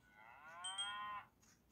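A single drawn-out cow moo from the Roblox Islands game sounds for about a second, soft and fairly close, with no talking.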